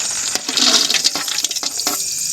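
Almonds and cashews frying in ghee, prepared for Arabian mandi biryani, give a close, steady hissing sizzle with scattered sharp crackles and pops throughout, without any talking.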